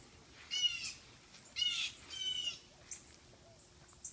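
Several species of birds squawk at a snake outdoors, giving three harsh, buzzy bursts at moderate distance, each about half a second long, followed by a couple of fainter short calls over a quiet background.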